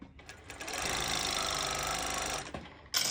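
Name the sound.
sewing machine cover stitching a festival triangle top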